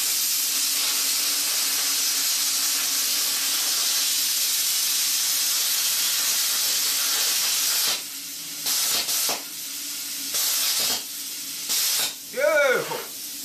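Plasma cutter with an extended copper cutting tip and copper electrode, a loud steady hiss of air and arc for several seconds, then short bursts of hissing as the cut stops and restarts, followed by a brief voice.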